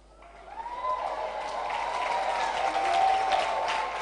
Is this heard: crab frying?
no